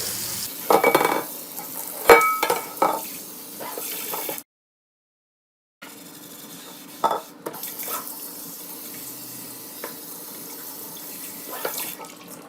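Running tap water splashing over a greasy pan as it is rinsed and scrubbed in a sink, with scraping and clatter, a short silent break, then more rinsing, close by.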